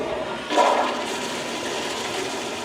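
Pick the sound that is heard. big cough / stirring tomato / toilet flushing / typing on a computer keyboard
toilet flushing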